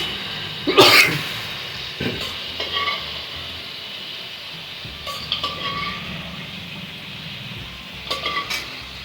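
Spices for mutton sautéing in a pan with potatoes, soft sizzling under a few sharp scrapes and clinks of a spoon stirring against the pan, with no one talking.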